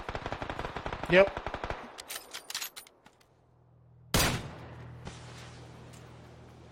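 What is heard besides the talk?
gunfire in a video game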